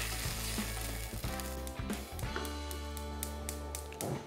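Japchae ingredients stir-fried with soy sauce in a frying pan, a loud continuous sizzle broken by repeated scrapes and clacks of a utensil against the pan, with no talk.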